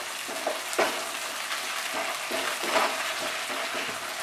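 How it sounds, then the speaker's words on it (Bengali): Ginger paste stir-fried in a pan over a medium flame, giving a steady soft sizzle with scattered scraping stir strokes, close and moderately loud, no talking. "আদা বাটা দিয়ে 30 সেকেন্ড মতো নাড়াচাড়া করবো"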